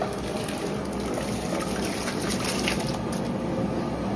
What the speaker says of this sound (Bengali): জল গরম হয়ে গেছে এখন চাল দিয়ে দেব